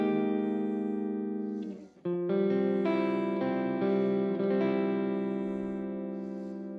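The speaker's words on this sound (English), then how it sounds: "if I roll the volume off on 4, it cleans up nice, and we get another clean sound" VVT X-40 guitar amp played clean with the guitar volume rolled off to about four, sustained chords ringing out loud and full with a brief break before a new strummed chord that slowly decays.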